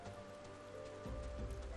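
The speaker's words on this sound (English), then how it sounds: "Oh, of course, it's raining here." Steady rain falls in Final Fantasy XIV, a soft, even hiss of drops on surfaces, with a low rumble swelling near the end.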